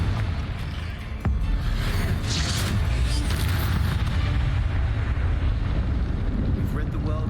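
A Confringo fire spell explodes in the PC game Hogwarts Legacy with a sharp booming blast, followed by a sustained roaring rumble that fills the scene.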